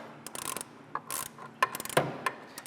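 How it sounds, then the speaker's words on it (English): A torque wrench set to 70 inch-pounds ratchets a boiler blower bolt tight, giving a run of close, quick mechanical clicks and short rasping bursts with small pauses between them. "grab your torque wrench. I have mine set to 70 inch-pounds and torque the bolt tight"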